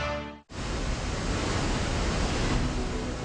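Niagara Falls pours a huge volume of water over its crest, a dense, steady roar of rushing water that fills the clip after a brief dip at the start, with no voices.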